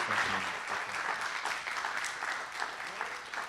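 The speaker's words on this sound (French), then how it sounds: "Est-ce qu'on peut lui offrir une main d'applaudissement?" Moderate clapping from a meeting audience after a presentation at a citizens' jury, fairly close, with a brief voice at the start and a mix of irregular individual claps.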